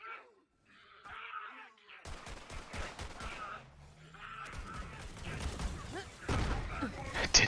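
Handgun fire in the Borderlands 3 video game comes as bursts of quick shots mixed with other busy game effects, some impacts and roars, rising louder toward the end.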